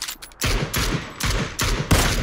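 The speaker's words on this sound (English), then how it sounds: "I'm getting shot from Hacienda!" Heavy bursts of close gunfire in PUBG on the Miramar map, a few loud, booming volleys in quick succession after a brief quiet opening.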